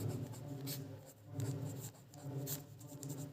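A pen scratches steadily across paper while a class eight math worksheet is worked through, close and continuous in short strokes and pauses, with no talk.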